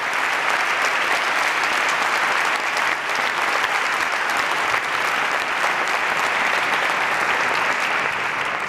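Dense, steady applause from a large audience at an awards gala for short films, continuous loud clapping filling the whole stretch with no break.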